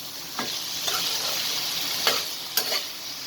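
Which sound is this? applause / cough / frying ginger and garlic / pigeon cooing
frying ginger and garlic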